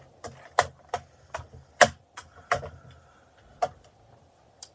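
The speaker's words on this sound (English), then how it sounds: "We can grab our mini cut and emboss machine here." Mini cut and emboss machine for card making, heard as a series of sharp, irregular clicks and taps close by in a quiet room.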